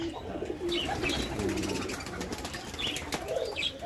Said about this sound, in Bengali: এই ঝুড়ির মধ্যে কয়টা কবুতর আছে আপনার এখন